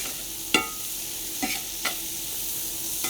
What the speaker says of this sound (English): Now I'm going to add some onion. All right. And stir this around.